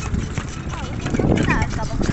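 Horse hooves clip-clop steadily nearby, the clattering beats running under people talking throughout.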